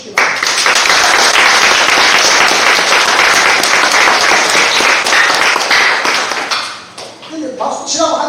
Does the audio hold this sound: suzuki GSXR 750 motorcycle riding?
no